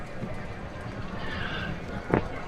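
Horses galloping in a GTA V horse race: a steady, busy rumble of hooves runs throughout, with a louder sharp burst near the end and a voice underneath.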